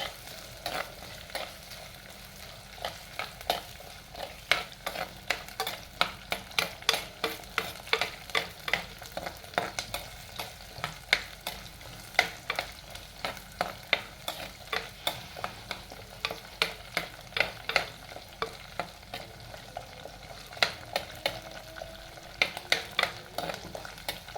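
Spice powders fry in oil for a tuna fish curry while being stirred, a steady sizzle punctuated by rapid, repeated scraping strokes of a spoon against the pan, close and continuous with no talk.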